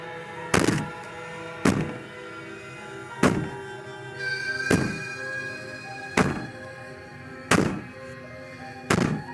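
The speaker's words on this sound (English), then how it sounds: "Maybe the banging and wailing will stop if you just don't pay attention to it." Heavy banging on a door in the video game Slay the Princess: six hard, evenly spaced thuds about every one and a half seconds, loud and close, with a faint wailing tone between the blows.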